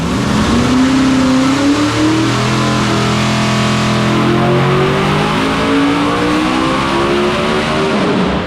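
An old school small block V8 revs hard and loud, its pitch climbing and falling in long continuous pulls with no pause.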